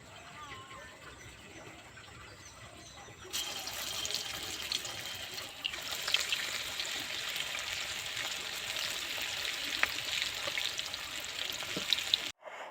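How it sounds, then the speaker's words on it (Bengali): Red lentil fritters dropped by hand into hot oil, a loud continuous sizzle and crackle rising suddenly and holding steady, with light clicks from the pan. "এবার আমি মুসুর ডালের বড়াগুলো ভেজে নেব।"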